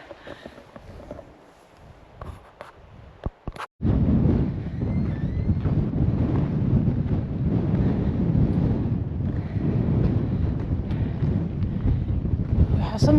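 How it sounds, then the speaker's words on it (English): Strong wind buffets the microphone on a stormy hiking trail in Sweden, a loud continuous low rumble that kicks in after a few seconds of quieter sounds with a few sharp clicks and then holds steady. "it's very, very annoying with the wind"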